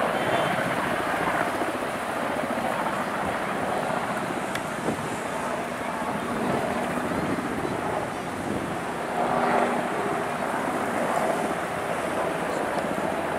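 A firefighting aircraft drones overhead as it arrives over an evening wildfire in Datça, a steady rumbling engine roar with wind buffeting the microphone throughout and faint voices in the background.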